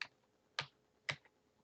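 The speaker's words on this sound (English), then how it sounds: "Hit the up arrow on your keyboard and it remembers the last thing you typed." Three separate computer keyboard key presses click close by at a slow, even pace, each a short crisp tap in an otherwise quiet room.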